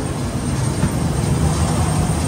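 Steady broadband roar of airplane engines while boarding a plane, loud and continuous throughout with no talk.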